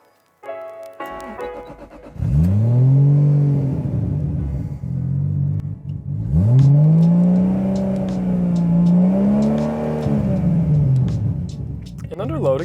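An old Toyota's engine turns over and catches, then revs in two long rising and falling pulls with a deep, loud rumble, idling between revs.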